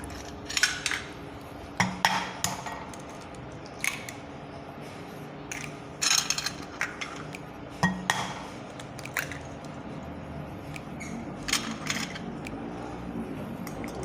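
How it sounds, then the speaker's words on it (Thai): Eggs whisked with a utensil in a bowl for a Thai omelette with betel leaves, heard as irregular clinking, tapping strokes against the bowl over a steady background hum. "ตีไข่เลยค่ะ"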